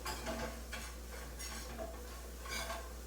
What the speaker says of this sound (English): I'll let that flour cook in with the butter for a minute.